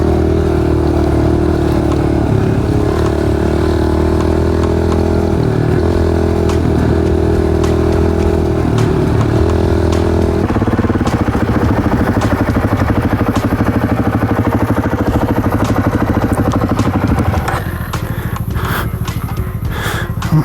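Two trail bikes, a Kawasaki KLX 110 and a Suzuki DRZ400, ride a wooded trail, their engines droning steadily and close throughout, with the pitch shifting as they rev and ease off.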